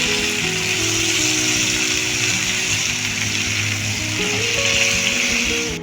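Chopped tomatoes, salted, frying in a small, worn tarka pan: a steady, loud, close sizzle over a low electrical hum, unbroken for the whole stretch.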